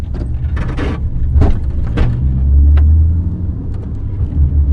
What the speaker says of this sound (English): Oh god, speed bump!